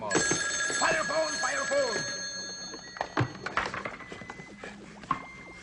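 An old-fashioned telephone bell rings loudly at a fire station in a comedy sketch, then breaks off into clattering handling noises and rustling as the receiver is picked up.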